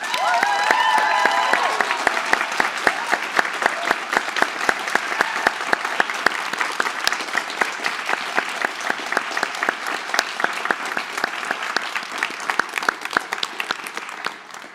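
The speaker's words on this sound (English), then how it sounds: "I hope Storsalen will join me in a big round of applause for both our candidates" Audience in Storsalen applauding both candidates after a presidential election debate, a dense, steady round of clapping from a large crowd lasting the whole stretch with no speech over it.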